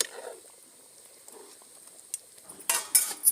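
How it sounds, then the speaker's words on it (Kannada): A pan of Andhra village-style brinjal curry is stirred, starting quiet with faint soft scraping, then a few louder metallic clinks and scrapes of a spoon against the pan near the end. Nobody speaks. "ಈ ಥರ ಒಂದ್ಸರಿ ತಿರ್ಕೊಂಡ್ಬಿಟ್ಟು ಪ್ಲೇಟ್ ಮುಚ್ಚಿಕ್ಬೇಕು"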